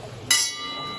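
A small Swiss bell is struck once and rings with a bright metallic tone that lingers and slowly fades.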